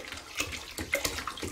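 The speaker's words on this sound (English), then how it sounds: "I'll just go ahead and put a couple gallons here" Distilled water being poured from a gallon jug into a 2-gallon bucket, a short close splashing pour that comes in uneven gushes.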